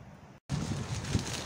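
Gusty autumn wind in Kuwait buffets the microphone with low rumbling bursts after a brief dropout, a rough, blustery roar with faint rustling of dry leaves.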